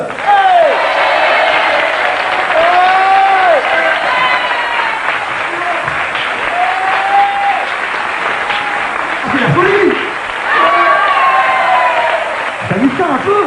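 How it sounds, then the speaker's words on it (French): A studio audience on a 1994 French TV game show set, Le Millionnaire, applauds and cheers loudly, with whoops and shouts rising over continuous clapping. "sous vos applaudissements, il s'appelle Pascal Argence"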